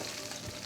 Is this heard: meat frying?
yes